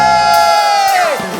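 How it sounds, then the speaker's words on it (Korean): A congregation shouts in praise during an all-nations worship service at Ansan Dongsan Church, a loud, sustained roar over a held musical note that lasts a moment and then falls away. "소리 치며 주님을 찬양해."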